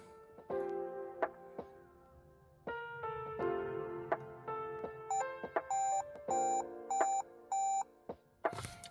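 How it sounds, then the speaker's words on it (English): Dashboard of a 2021 Toyota Hilux sounding electronic bleeps as the immobiliser enters service mode, a mix of tones and then five clear, evenly spaced beeps, close and alone. "hold the last button for 15 seconds until we get 5 bleeps from the dash"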